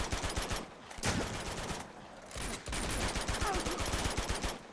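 Sustained automatic gunfire from Uncharted 2: Among Thieves, dense rapid bursts firing almost without pause, loud and close, with brief lulls between volleys and no talking.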